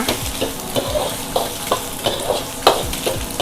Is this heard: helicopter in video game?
no